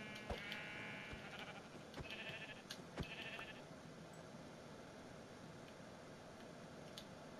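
Sheep in the Minecraft video game bleat in a few short bursts early on, fairly faint over a steady background hum, then it goes quiet apart from small clicks.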